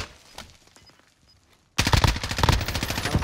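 Shooter game gunfire: a few scattered shots at first, then after a near-silent gap a sudden, loud, rapid stream of close automatic fire that continues to the end.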